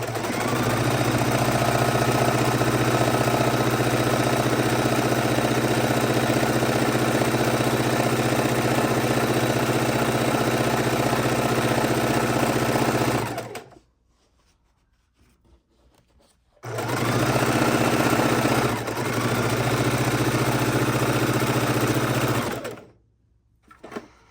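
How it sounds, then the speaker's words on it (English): Domestic sewing machine stitching backwards and forwards through fabric while making an art roll, a loud steady motor whir running continuously for about thirteen seconds, pausing briefly, then running again before stopping; no talking. "I'm going to sew backwards and forwards, locking in that corner"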